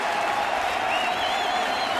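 A baseball stadium crowd of more than 35,000 at an Atlanta Braves at Detroit Tigers game stands and cheers, a dense, even roar of applause and voices that holds at full strength throughout.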